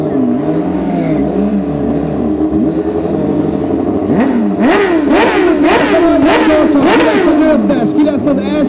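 A Honda CBR 1000 RR sportbike engine, Repsol and nitro versions, revs hard in repeated rising bursts over a steady loud mechanical drone, near and continuous, with crowd-like background noise throughout.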